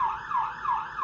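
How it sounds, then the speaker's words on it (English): Fire truck siren sound effect from a children's read-aloud book, a loud wailing tone sweeping up and down in quick repeated cycles, close and alone. "They all climb aboard the fire truck and turn on the siren and lights."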